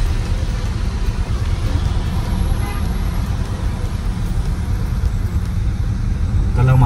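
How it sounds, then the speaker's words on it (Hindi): A vehicle's engine revving on a mountain road between Chitkul and Kalpa, a steady rumbling roar with road noise throughout, swelling slightly toward the end. "रेस देने की लग रही है इसको।"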